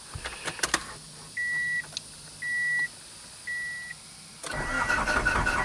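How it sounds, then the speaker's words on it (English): A Honda car is switched on before starting: a low electric hum runs under three short, even electronic tones. The engine then cranks and catches into a loud, rough idle. "Wait for that full fuel pump to prime."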